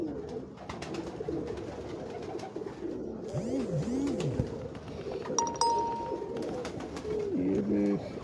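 Cross-bred Kamgar and Misri pigeons coo in a low, steady murmur close by, with a few swooping calls and a brief metallic clink.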